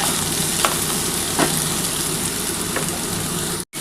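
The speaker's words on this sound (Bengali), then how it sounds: "আলু আর ঝিঙেটা মোটামুটি ভাজা হয়ে এসছে" Potato and ridge gourd fry in a pan for a Bengali poppy-seed dish, making a loud continuous sizzle with a few stirring clicks before it cuts off briefly near the end.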